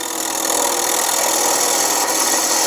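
A wood lathe spins a twice-turned pedestal dish at about 1200 RPM, giving a loud, steady, close cutting rasp that holds unbroken for the whole stretch.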